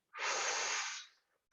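A single deep inhaled breath, close and airy, swelling quickly and holding steady for nearly a second before tapering off into silence.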